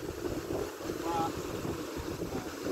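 Open sea at Tapak Tuan beach in South Aceh, a steady wash of waves on the shore mixed with heavy wind buffeting the microphone, with a faint voice in the background.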